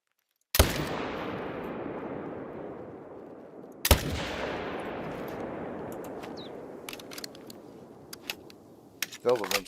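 Two loud, sharp rifle shots in theHunter: Call of the Wild's Emerald Coast hunting map, spaced a few seconds apart, each with a long rolling echo, then some light clicking.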